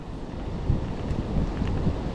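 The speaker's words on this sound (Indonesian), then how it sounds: "Angin." Wind blows hard across a microphone at an outdoor fishing spot, a loud low rumbling buffet with uneven gusts throughout and no speech.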